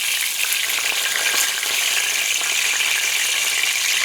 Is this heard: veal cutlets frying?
yes